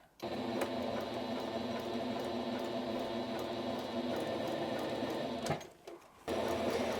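Sewing machine feeding cushion fabric through a hem spiral, a close steady whirring motor hum with fast rhythmic needle clatter, briefly slowing and pausing near the end before running again.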